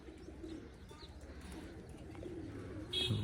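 Pigeon cooing, a soft low repeated coo rolling on close by through steady background noise, with a brief louder bird sound at the end.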